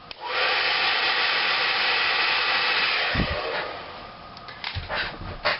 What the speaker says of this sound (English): This is my hairdryer. It's on hot